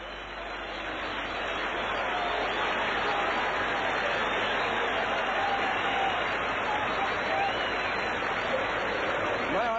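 A harness racing crowd at the 1980 Hunter Cup gives a sustained standing ovation, a dense wash of applause and cheering that swells and holds loud throughout, heard from the broadcast position.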